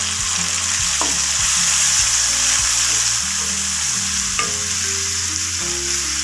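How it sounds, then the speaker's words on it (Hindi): Tomatoes go into a hot frying pan for a Punjabi wadiyan curry, setting off a loud, steady sizzle that fills the whole stretch, with low steady tones beneath it. "अब हम इसमें टमाटर डालेंगे।"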